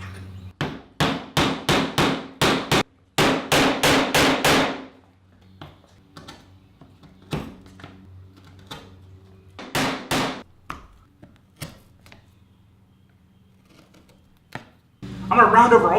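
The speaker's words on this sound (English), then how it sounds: "Now I'll just finish off these round holes in the panel using a square hole punch" Sharp, ringing hammer blows drive a square hole punch through round holes in a wooden panel, coming in quick rapid bursts up close, with quieter tapping and handling noises between them.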